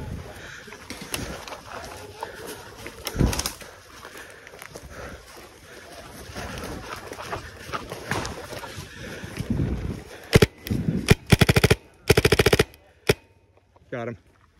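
Bursts of video game gunfire in a large 100-versus-100 match, scattered shots early then rapid loud automatic volleys near the end, with players talking throughout.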